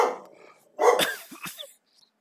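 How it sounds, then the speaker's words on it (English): A dog barks a few times close by: one longer burst followed by two or three short, sharp yips, then quiet. "Forget my dog. He's crazy."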